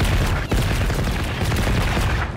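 Sustained AK-47 fire in a video game battle against a firebird, a loud, rapid unbroken stream of shots with a brief gap near the start.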